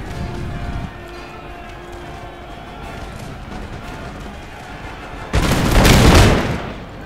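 A musket and artillery volley in the video game Napoleon: Total War: a faint crackle of distant fire and a low rumble, then a loud booming burst lasting about a second.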